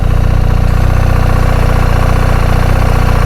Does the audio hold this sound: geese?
no